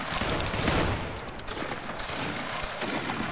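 Musket volley fired together by a line of grenadier reenactors outdoors, a single loud broadband crack that rolls into a long echoing rumble and dies away over about three seconds.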